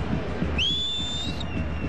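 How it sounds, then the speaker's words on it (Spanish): A single sharp whistle at a football stadium during a San Lorenzo vs Gremio match, rising quickly and held steady for about a second before cutting off, standing clear over a low crowd rumble. "Es que chifla Roger, ¿eh?"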